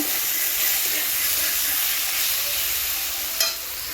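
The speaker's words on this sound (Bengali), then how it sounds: "আর এই যে কচুলাটি ভাজা বসিয়ে দিয়েছি" Taro stems (kochu) frying in a pan on a home stove, a steady broadband sizzle and hiss with faint stirring clatter and a brief sharper spatter near the end, no talking.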